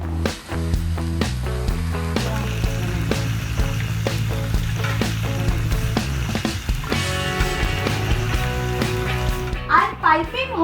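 A veg sizzler crackling and hissing on a heated plate, a steady, fairly loud sizzle with splattering, heard under background music and a voice.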